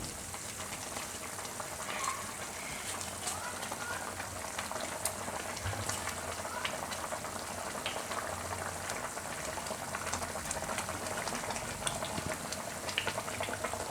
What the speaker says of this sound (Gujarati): ઉકળી ગયો છે રસો.